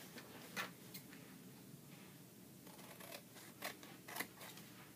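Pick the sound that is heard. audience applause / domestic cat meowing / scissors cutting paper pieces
scissors cutting paper pieces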